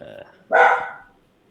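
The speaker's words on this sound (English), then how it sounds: "Oh, bark!" One short, loud bark right up close, cutting off quickly into silence, after a brief murmur.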